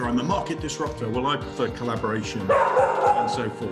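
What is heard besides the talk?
dog barking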